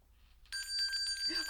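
A bell rings in a bright, sustained metallic tone that starts abruptly after a short quiet moment and keeps sounding close by, with a voice coming in at the very end.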